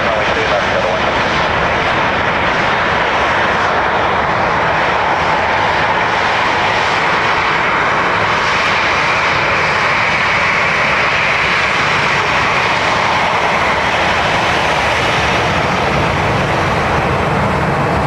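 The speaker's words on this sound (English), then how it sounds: "DL 176, it's our A350 900 coming from Atlanta." A Delta Airbus A350-900 airliner arriving at Dublin Airport from Atlanta, its engine roar steady and loud throughout as a broad continuous rush with no break.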